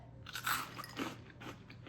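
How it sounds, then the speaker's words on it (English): Crisp crunching bites, a few quick crackly snaps close to the ear, with no talking. "You can hear the crunch, and after the crunch, they just kind of melt in your mouth."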